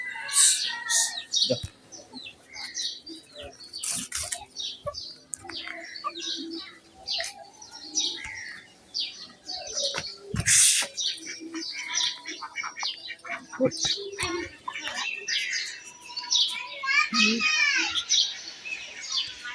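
Baby chicks chirp in short sharp bursts, scattered across the stretch among other yard noises, a few wing flutters and faint background voices.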